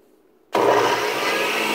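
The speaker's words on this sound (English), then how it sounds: "you use your hand to activate the blender" After a half second of quiet, a blender abruptly starts chopping ingredients for an omelet, running loud and steady with a whirring motor roar to the end.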